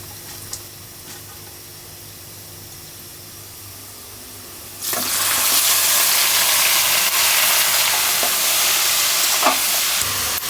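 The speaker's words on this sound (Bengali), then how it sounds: "তেলের উপরে পেঁয়াজ ভেজে এখন সব সবজিগুলোকে একটু ভেজে নেব" Onions and vegetables frying in hot oil, starting as a low background hiss before a loud sizzle surges in and holds steady, with occasional stirring clicks close by.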